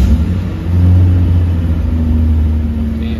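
A Mitsubishi Pajero Montero engine runs with a loud, low, steady rumble that rises slightly in revs, close by with no speech over it.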